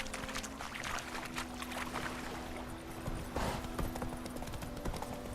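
Roach, Geralt's horse in The Witcher 3, trots with steady clip-clop hoof beats up close in a game scene, with a low ambient hum underneath.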